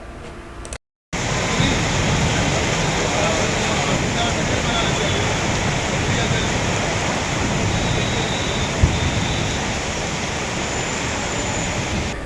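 Heavy monsoon rain pours down steadily in Jamshedpur, a dense continuous hiss that holds at an even loudness throughout, broken only by a brief gap near the start.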